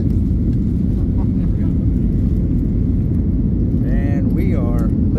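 A passenger airliner lifts off, with a loud, steady low rumble and engine roar heard from inside the cabin throughout and a brief whine rising near the end; a person speaks over the noise.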